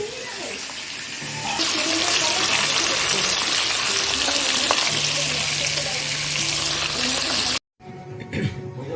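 Black cumin seeds, dried red chilies, garlic and green chilies fry in hot oil, a loud, steady close-up sizzle that suddenly cuts out, then returns more faintly with light clatter.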